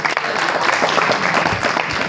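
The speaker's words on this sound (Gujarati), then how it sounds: "બધા તાળીઓથી વધાવી લઈશું." An audience at a motivational talk applauds a speaker with a loud, close, continuous patter of clapping that fills the short moment without a break.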